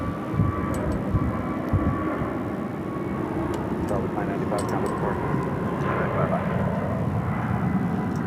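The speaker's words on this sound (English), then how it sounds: "Southwest Flight 2964 coming in from San Diego on a 737-700" A Southwest Boeing 737-700 arriving from San Diego at Phoenix airport gives off a steady, distant jet engine roar, with a voice talking over it.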